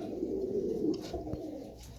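Three silver pigeons coo softly, giving a low, murmuring call under a faint hum of background noise, then falling quiet.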